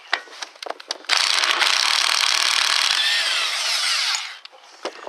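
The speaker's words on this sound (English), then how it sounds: "I'm going to use the impact wrench to speed things up." An impact wrench on a Ford Expedition front ball joint nut rattles loudly in one sustained burst of about three seconds, after a few short knocks and clicks and before it tapers off into quieter clatter.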